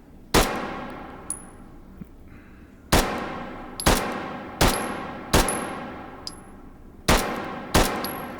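Pistol fired at targets in the video game Hot Dogs, Horseshoes and Hand Grenades, with extended 20-round magazine: seven sharp, loud single shots spaced unevenly, each followed by a brief metallic ring from struck steel targets, with no voices.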